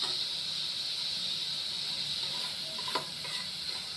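An egg fries slowly in a pan with a steady, even sizzle and hiss throughout, broken by one faint clink near the end.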